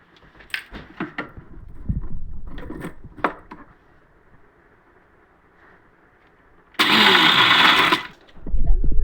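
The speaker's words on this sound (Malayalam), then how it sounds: "ഇത് കുറേശ്ശെ നമുക്ക് മിക്സിയിൽ ഇട്ടിട്ട് ഒന്ന് പൾസ് ചെയ്തെടുത്താൽ മതിയാവും." A kitchen mixer grinder pulses rock salt crystals in one loud, harsh whirring burst of about a second, after someone talks quietly.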